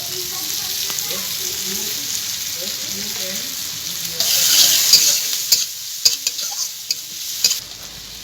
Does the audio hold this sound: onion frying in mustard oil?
yes